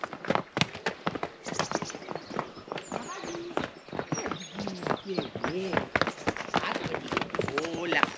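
Horses, including a mare, clip-clopping past in a meadow, a busy run of close hoofbeats and shuffling steps while people talk and greet them.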